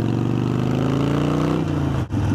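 A motorbike engine holds a steady, loud mid-pitched drone, then shifts in pitch as it is clunked into gear, with a brief dip and a mechanical jolt near the end.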